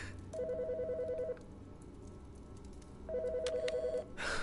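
A phone rings in the video game Autopsy Simulator, two clear electronic trilling rings separated by a pause, over a faint low ambient hum and with no talk.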